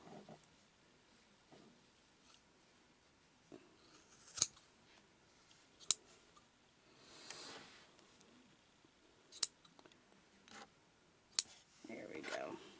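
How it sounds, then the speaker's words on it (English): Scissors trim yarn at a craft table: several sharp, isolated snips spaced seconds apart, close and crisp, with quiet rustling and a voice speaking softly in between. "I'm going to go ahead and trim this up a little bit."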